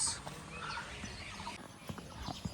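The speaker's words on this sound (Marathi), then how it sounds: "वेगळ्या पक्ष्यांचे आवाज पण भरपूर येत आहेत" Assorted birds call around a hotel garden near Kaziranga in Northeast India, with scattered chirps and short calls over a low, busy outdoor background.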